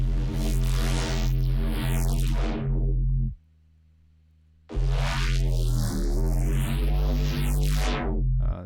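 Two long sweeping notes from a synthesizer patch made with Aberrance: dense buzzy tones with a filter gliding down, then rising and falling again, loud and alone with a short silence between them.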